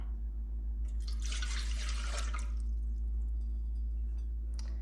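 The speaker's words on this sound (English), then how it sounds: "the first ingredient we want to add into our pan is a cup of room temperature water" A cup of room-temperature water is poured into a bread machine pan for pretzel dough: one short, close splashing pour of about a second and a half over a low steady hum, with no talk.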